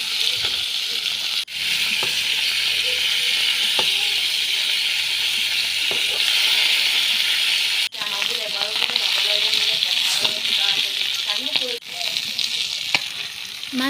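Pieces of fish fry in hot oil in a pan, giving a loud, continuous close-up sizzle with occasional stirring scrapes and spatters.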